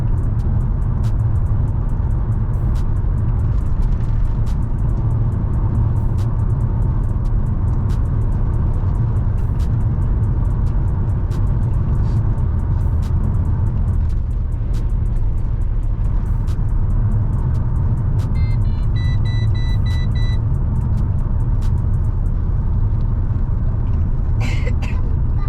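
A Chevrolet Lumina SS accelerating, its engine a steady low rumble held through a long continuous pull, with road and wind noise and a few faint clicks over the top.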